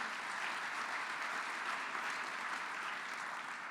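Sustained audience applause for Governor Bullock at a summer plenary meeting on infrastructure, a dense, even wash of many hands clapping steadily throughout without talk.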